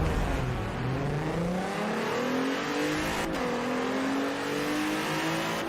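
A Nissan 300ZX races in Forza Horizon 4, its engine note climbing smoothly through long rising pulls, one brief shift dip partway, a sustained loud drone with no voices.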